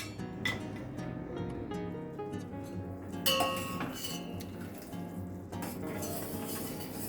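Sugar syrup for shakarpara being stirred in a pan over a low gas flame, with soft scraping, occasional metal clinks of the spoon against the pan and a faint sizzle running steadily throughout.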